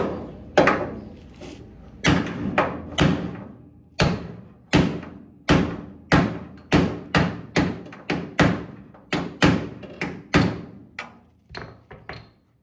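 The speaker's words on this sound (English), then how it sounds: "Hammer that one shut." Hammer blows strike a replacement metal panel to close a gap, about twenty times in an irregular rhythm, each hit a sharp, loud bang with a short ringing decay.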